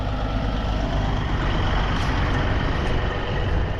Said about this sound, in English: Just some brakes.